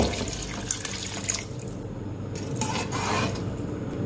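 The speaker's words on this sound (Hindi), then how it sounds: "अब इसमें यखनी शामिल करूंगी" Strained meat broth (yakhni) is poured from a container into a pot of rice, giving a steady liquid splash and trickle that swells toward the end, moderately quiet and close, with no talking.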